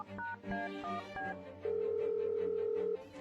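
Several short telephone keypad beeps are followed by a long, loud, steady telephone tone of about a second and a half, set in a television drama.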